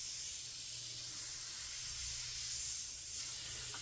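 An airbrush atomizing paint into a fine spray gives a steady, soft, continuous hiss that holds evenly throughout, up close and alone, with no voices.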